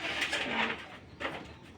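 An old-line, army-style male pigeon coos, a single low rolling coo rising out of a soft background hum, close and clear with no talking.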